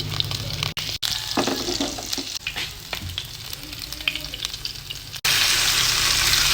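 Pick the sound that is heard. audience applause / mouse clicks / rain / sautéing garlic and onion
sautéing garlic and onion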